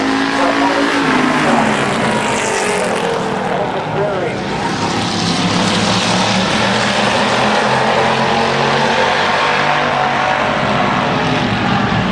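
Race cars at Midvale Speedway make a loud, unbroken roar of engines throughout, with a faint announcer voice mixed into the din.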